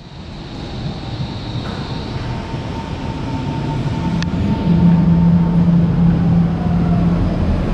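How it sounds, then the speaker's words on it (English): A PESA Link train rumbles into Berlin Ostkreuz station, its low roar growing louder as a faint metallic squeal and brake hum rise while it slows. "here we can see our train arriving in Berlin Ostkreuz"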